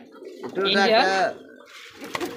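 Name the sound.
Black Bombay pigeons cooing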